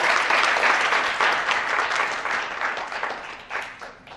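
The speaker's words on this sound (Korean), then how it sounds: "여러분 박수 부탁드릴게요" Sustained audience applause at a Korean M&A forum award ceremony, a full, dense wash of many hands clapping close by that slowly tapers in the last second.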